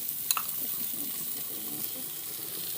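Spices frying in a pan just before poppy seed and mustard paste go in for a hilsa dish, a steady hissing sizzle with a single brief clink near the start, no voices.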